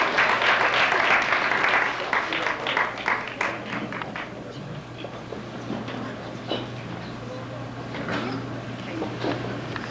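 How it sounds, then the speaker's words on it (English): Audience applause at an eighth-grade school awards banquet, a strong burst of clapping that thins to scattered, lighter claps over a low steady hum. "And you may applause at any time."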